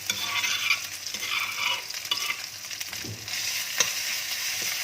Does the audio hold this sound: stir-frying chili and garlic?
yes